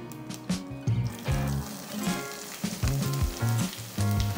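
Chopped onions hit hot oil in a pan with curry leaves and whole red chilies for a Kerala chicken roast, giving a steady crackling sizzle with soft stirring scrapes, close and loud with no talking.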